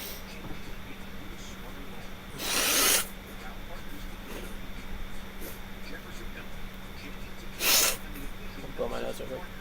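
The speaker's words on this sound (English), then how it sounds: "Blow my nose over." Someone blows their nose twice, two short, loud broadband bursts about five seconds apart over a steady low hum and quiet room noise, as preseason NFL football coverage of the Patriots and Eagles plays in the background.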